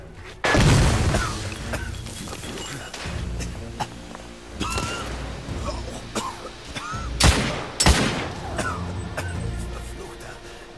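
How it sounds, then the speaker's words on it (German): A grenade blast and gunfire in The Order 1886 on PS4 make a loud opening explosion followed by scattered gunshots, thuds and crashes, with a second heavy bang near the end and voices mixed into the combat. "Granate!"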